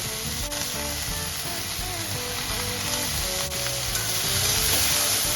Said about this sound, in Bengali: কাঁচা লঙ্কা, পেঁয়াজ, সামান্য ধনে পাতা ভাজবো।